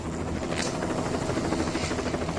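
A helicopter running steadily nearby during live-wire electrical work, a dense continuous rotor and engine roar filling the whole stretch at an even, loud level with no talk.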